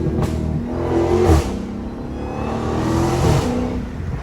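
A Dodge Hellcat with an untuned exhaust revs loudly from inside the car, a steady throaty drone swelling in a few surges with crackling pops between, and no talking.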